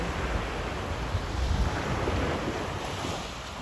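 Large waves wash in on a white sand beach after a storm, carrying seaweed ashore, a steady roaring surf heavily mixed with wind buffeting the microphone.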